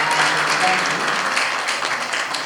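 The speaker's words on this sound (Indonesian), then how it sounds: "Kita tepuk tangan bersama untuk ketiga" A workshop audience claps together for three guests, a dense, steady wash of applause that stays loud and even throughout.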